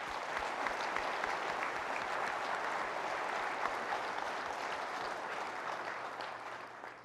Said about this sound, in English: Would you please join me in another round of applause for Chet?